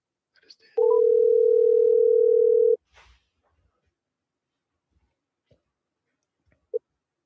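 A steady telephone dial tone sounds for about two seconds while a call is being placed, preceded by a few faint handset clicks and followed by quiet, with a brief click near the end.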